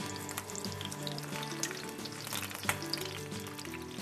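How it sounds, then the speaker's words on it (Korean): Korean jeon pancakes frying in a pan, a continuous crackling sizzle with scattered sharp pops, close and fairly quiet, with no voices. "지글지글 소리만 들어도 왠지 마음이 설레는 우리 민족의 전통 음식인데요."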